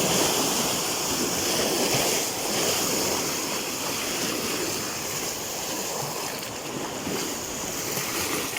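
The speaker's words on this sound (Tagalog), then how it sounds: "Ang laro ng alon, no?" Waves washing onto a lake beach near Taal Volcano in Batangas, a continuous rolling surf wash mixed with gusty wind buffeting the microphone, steady and fairly loud, no voices.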